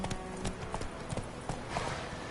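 Roach the horse's hooves clip-clop at a steady trot in The Witcher 3, close and clear in a rhythmic series of hoofbeats.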